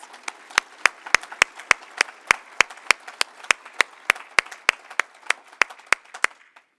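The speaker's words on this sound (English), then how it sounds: "Please give yourself a huge round of applause." Convention audience applauding: a steady run of sharp, evenly spaced claps rising above a softer bed of scattered clapping, fading out at the end.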